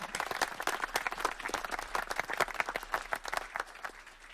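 An audience applauds at a Rice University event welcoming a provost, with dense, sustained clapping from a sizable crowd at moderate distance, no voices over it.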